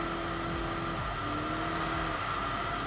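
Race cars in Enthusia Professional Racing roar into a braking zone with a loud, steady engine drone and a faint tire squeal as they slow down.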